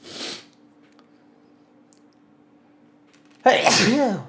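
A single sharp sneeze bursts out near the end after a quiet pause, preceded by a brief breathy intake at the start.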